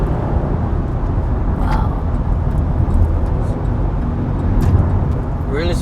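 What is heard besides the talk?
2019 Chevy Blazer RS engine accelerating in sport mode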